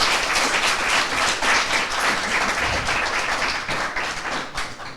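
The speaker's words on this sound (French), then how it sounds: "j'ai envie de vous faire applaudir, Moutiou" A studio audience at a televised quiz show applauds a contestant, dense loud clapping from many hands that swells and holds, then tapers slightly near the end.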